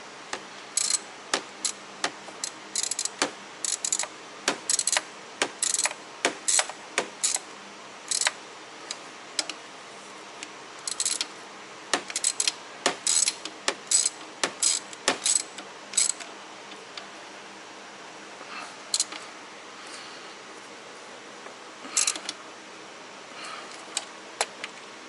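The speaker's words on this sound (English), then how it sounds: "So now I'm gonna tighten up the other bolts." Bolts on the injector line seals of a Freightliner Cascadia truck being tightened with a ratchet, giving sharp, close clicking bursts in irregular clusters separated by quiet pauses.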